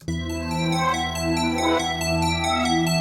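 Synth bells with sustained tonal layers ring inside a dark synth beat built from stock plugins, playing steadily and loudly over a deep bass drone for the whole stretch.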